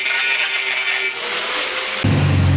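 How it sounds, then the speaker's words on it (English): Steady, loud grinding works on metal inside a van's donor roof, a continuous harsh roar that shifts to a deeper, more resonant tone near the end, with no talking. "Omar is grinding inside of the donor roof"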